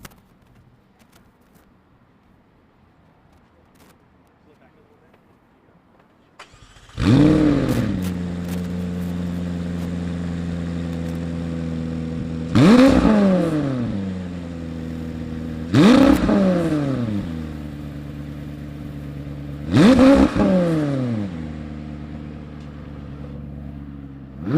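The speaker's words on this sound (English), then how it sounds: "Can't do this whole thing and not hear the motor, not hear what 800 horses sound like." An 800-horsepower track-focused car fires up after quiet, settles into a steady idle, and is blipped through four sharp revs spaced a few seconds apart, loud and close with no talking.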